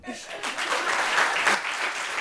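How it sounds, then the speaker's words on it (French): Applause from an audience at a French talk-show gathering rises after a brief start and carries on steadily, a broad dense wash of clapping with some voices mixed in. "Il faut applaudir."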